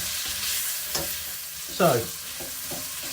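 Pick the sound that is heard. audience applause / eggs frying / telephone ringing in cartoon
eggs frying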